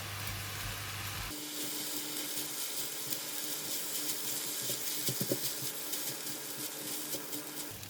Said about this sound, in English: And now we're going to bring the temperature up and stir fry.